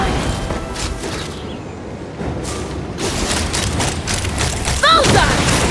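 Gunfire and booming impacts in a battle from the video game Genshin Impact, heavy and continuous under shouted voices, with crashes and a brief rising whine near the end.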